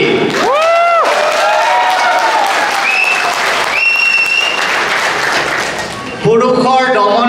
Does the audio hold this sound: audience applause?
yes